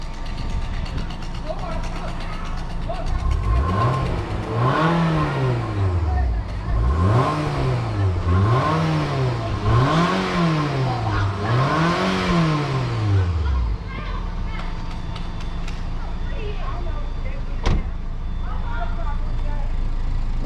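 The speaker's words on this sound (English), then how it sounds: "Let's give it some gas." A Nissan Altima with the 2.5 engine, under diagnosis for a fuel pump problem, revs several times in a row, each climb and fall of the engine pitch distinct and close, then settles back to a steady idle.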